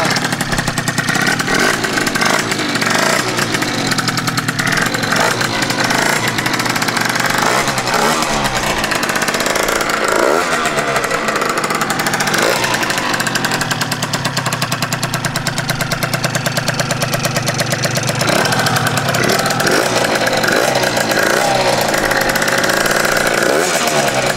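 A small scooter engine, just rebuilt and on its first run, runs continuously and loudly, its buzzy idle rising and falling slightly as it revs throughout.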